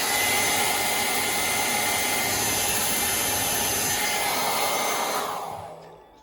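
A hair dryer blows hot air over freshly painted miniature parts, making a loud, steady whooshing hum that runs alone and then winds down and stops near the end.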